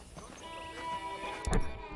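Horse hooves clopping at a walk in the Western video game Red Dead Redemption, set in 1911 America, with irregular soft thuds under faint game ambience and a louder burst near the end.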